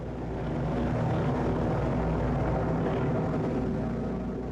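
Japanese carrier aircraft take off from the deck of the carrier Hiryu during the Battle of Midway, a loud, steady engine roar that holds constant throughout with no voices.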